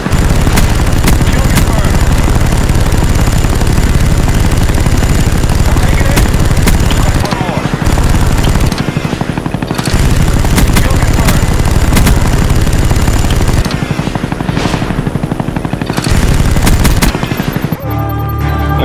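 Helicopter machine gun fire from a chopper gunner killstreak in Black Ops multiplayer, with loud sustained bursts of gunfire and booms running nearly continuously, briefly dropping out in short gaps.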